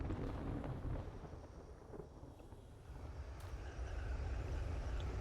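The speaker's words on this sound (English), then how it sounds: "Still waiting out the storm." A storm rumbles in the survival video game 7 Days to Die as a continuous low, roaring wash of wind-like noise. It swells and dips slightly, with no voices.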